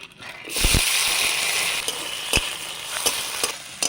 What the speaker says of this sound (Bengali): তেলের মধ্যে কোনো ফোড়ন দেবো নি প্রথমে দিয়ে দেবো পেঁয়াজ আর টমেটো কুচি